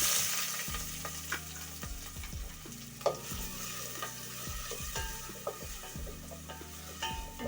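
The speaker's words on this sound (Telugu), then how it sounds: "కడాయి వేడెక్కాక ఆయిల్ వేసుకోవాలి వేసుకున్నాక కట్ చేసి పెట్టుకున్న ఆనియన్స్ని ఇందులో వేసేసుకోవాలి" Chopped onions fry in hot oil in a kadai with a steady sizzle, broken by repeated scraping and clinking of a spoon stirring against the metal pan.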